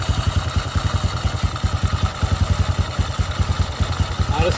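A SYM Bonus motorcycle engine idles close by, a steady loud rhythmic putter of even, rapid pulses with a faint clatter and no revving.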